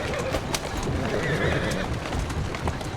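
A horse in Assassin's Creed Syndicate lets out a loud, close whinny over continuous clip-clopping hooves as it pulls a carriage through a noisy street.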